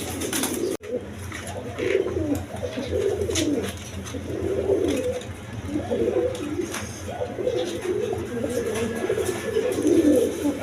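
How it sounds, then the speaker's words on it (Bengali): A pair of Kaldom pigeons coos repeatedly in soft, rolling bursts, fairly close and continuous, with faint background hum and no one speaking. "এখানে এক পেয়ার কালদম কবুতর আছে"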